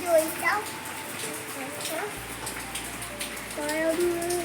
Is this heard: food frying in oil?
no